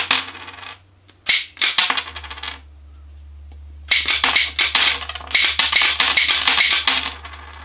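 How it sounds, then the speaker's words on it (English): A 1950s or 60s Pekka arcade payout, a solenoid-driven coin tube, spits out coins one at a time, producing bursts of sharp metallic clatter and jingling separated by a low steady hum, loud and close with no talking. "This is called a Pekka payout. So this tube is full of coins,"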